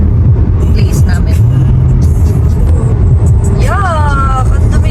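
Steady road traffic of many cars in Manitoba, Canada, a continuous loud low rumble with a vehicle passing close by near the end, while people talk over it.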